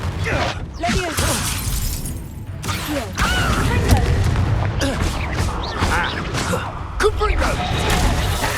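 Spell blasts of Incendio and Confringo in the Hogwarts Legacy video game burst out as repeated booming, crackling impacts with shattering debris over a continuous busy combat din.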